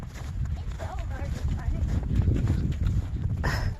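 Footsteps running through deep snow in a goat pen during the 2021 Texas snowstorm, a series of close muffled crunching steps with heavy breathing and a voice speaking over them.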